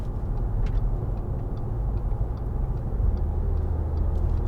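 A 2013 Audi A4 Avant 1.8 TFSI in sport mode pulls away, giving a low, steady engine rumble and road noise from inside the cabin, fairly quiet and with no voices.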